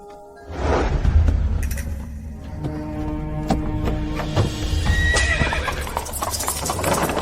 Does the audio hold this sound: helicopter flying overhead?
no